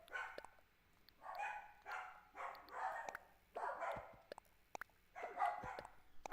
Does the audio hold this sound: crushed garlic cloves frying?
no